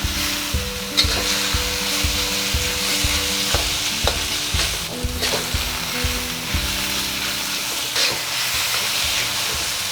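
Taiwanese rice noodles with pork frying in a pan, a continuous close sizzle with crackling pops and occasional stirring scrapes, heard alone throughout.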